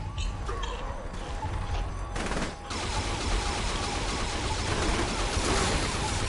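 Gunfire in the video game Saints Row 3 Remastered from a sniper rifle firing like a submachine gun, a loud continuous rattle of shots with a short break before resuming, no talk.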